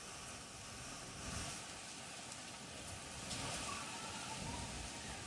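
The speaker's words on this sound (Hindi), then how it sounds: "तेज हवाओं के साथ मूसलाधार बारिश हुई है" Heavy rain driven by strong winds pours down over Delhi-NCR, a steady, dense hiss that swells slightly at moments, with no voices heard.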